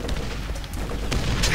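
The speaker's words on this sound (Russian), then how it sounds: "Что там так взрывается, я не понимаю" Explosions in the Borderlands video game: a dense run of booms and bursts over about a second and a half, loud and rumbling, rising toward the end.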